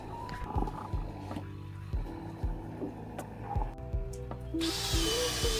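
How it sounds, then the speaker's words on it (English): A power drill whirs in short bursts, biting into wooden logs again and again for mushroom inoculation holes, with a rising high-pitched whine near the end. "Time to melt the wax and get drilling."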